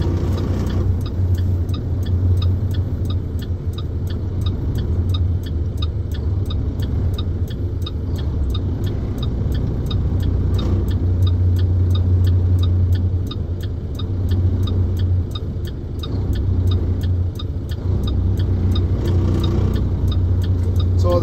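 A truck's diesel engine running steadily during a CDL road test in Amarillo, Texas, a loud continuous rumble heard from inside the cab with a faint regular ticking, likely a turn signal, and no talk.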